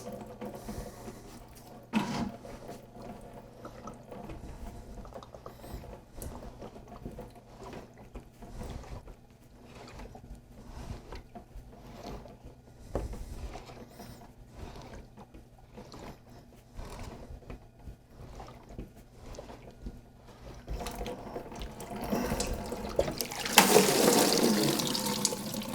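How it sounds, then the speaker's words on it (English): Water drains and splashes near the end as a Nuvo H20 water treatment cartridge is unscrewed, after a long stretch of faint handling and clicking sounds. "so as you're unscrewing it, you want to be ready to catch it, because as soon as those threads release,"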